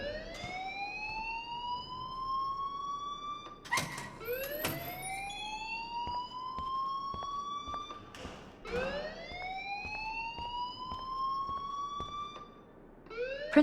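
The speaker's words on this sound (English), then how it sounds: "please turn off that alarm since that's your job" An alarm in the video game Life Is Strange, set in a school building, wails in repeated rising siren sweeps, each climbing and holding for a few seconds, with sharp clanks between cycles, moderately loud and steady throughout.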